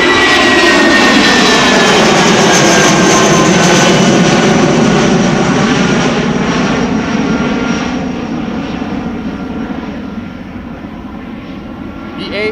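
An Airbus A319 jet airliner at Amsterdam Schiphol Airport on a flight to London Heathrow roars loudly close by, its whining jet engines holding strong before slowly fading into the distance.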